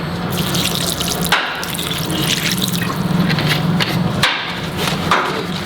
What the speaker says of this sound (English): I have to wash this with vinegar.